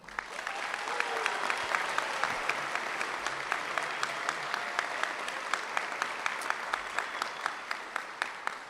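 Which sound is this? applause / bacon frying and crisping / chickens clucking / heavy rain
applause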